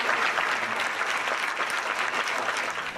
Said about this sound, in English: cheering on the astronauts